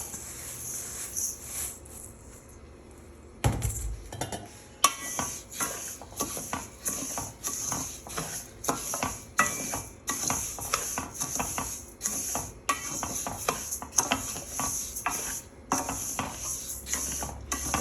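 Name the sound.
rice being dry-roasted and stirred in a pan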